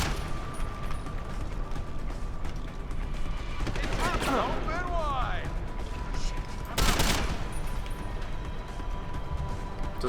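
Gunfire in a sci-fi video game, either Star Trek Online or Deus Ex, with a burst of mechanical firing and whirring midway and a loud sharp blast later, over steady game ambience with a voice talking.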